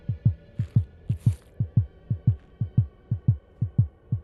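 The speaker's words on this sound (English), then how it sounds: "You can hear my heartbeat." Heartbeat sound effect in a VR cave exploring game, a steady close thumping pulse of paired low beats repeating about twice per second, loud and alone.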